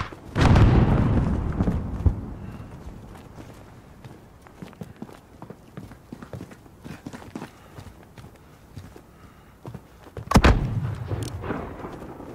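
Mortar fire in a Modern Warfare campaign battle, two heavy booming impacts, one at the start and one near the end, with scattered smaller shots and movement noise between them.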